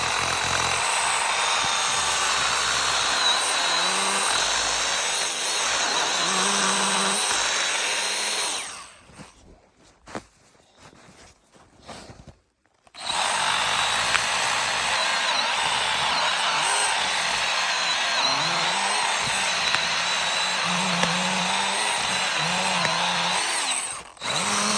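A power saw cuts through an eight-inch fallen log on a forest trail, a loud, close, sustained whining buzz that drops to near silence in the middle and then resumes.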